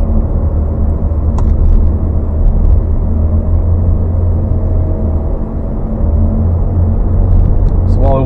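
A Rover 75 automatic car drives smoothly, its engine and road noise forming a loud, steady low rumble throughout, with someone talking over it.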